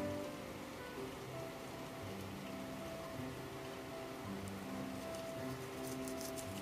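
Rain falling on a rainy day, a steady dense patter heard indoors at a moderate level, with a faint low hum beneath it throughout.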